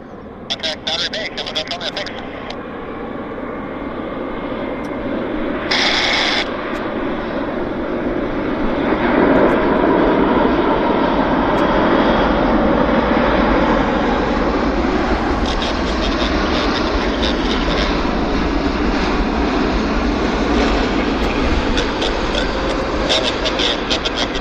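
Heavy jet airliners such as a Boeing 787 at Vancouver Airport produce a broad, continuous roar that swells and stays loud throughout, with voices talking over the engine noise.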